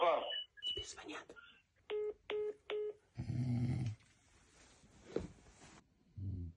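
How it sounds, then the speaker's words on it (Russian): A telephone rings indoors: three short, evenly spaced electronic ring bursts, followed by a burst of broad noise and low rumbling that suggests snoring. Brief voices are heard at the start and end. "Тебе звонят."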